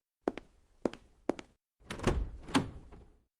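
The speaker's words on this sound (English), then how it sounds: "This is a fridge." A household fridge door shuts with three separate soft thunks close by, followed by a longer stretch of muffled knocking and rattling, with no voices.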